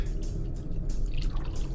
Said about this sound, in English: So I've got a bottle of water here, and let's pour it into the measuring cup.